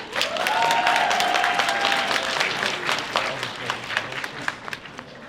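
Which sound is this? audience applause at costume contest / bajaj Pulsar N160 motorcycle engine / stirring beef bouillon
audience applause at costume contest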